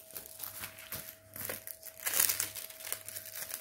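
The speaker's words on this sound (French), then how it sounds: "On va remettre le papier transparent." Clear transparent plastic film is crinkled and handled during an unboxing, giving soft irregular crackles and rustles in short bursts, quiet and close, with a steady faint tone beneath.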